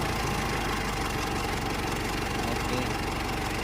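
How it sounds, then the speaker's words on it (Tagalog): Mitsubishi Strada pickup engine idling steadily up close as its aircon compressor engages, a continuous low mechanical rumble with a slight knocking vibration throughout. "Pagkasundot ko ng islamp ay gumana yung compressor."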